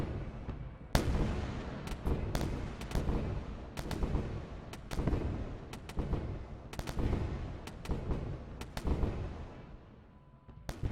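Enemy ship guns in the space game Wayward Terran Frontier fire in a dense, irregular barrage of loud booming shots and rapid bursts, nearly continuous for about eleven seconds, with no voices.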